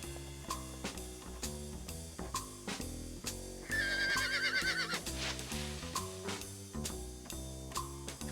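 Horse whinnying in a CD-i video game, a single shrill, wavering neigh rising over looping synthesized game music, mid-clip and fairly loud.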